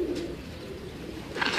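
Salaty pigeons with dry, fine-feathered feet coo in a steady low murmur, a soft higher chirp rising briefly near the end, with no voices present.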